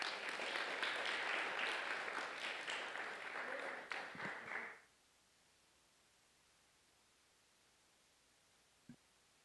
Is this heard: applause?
yes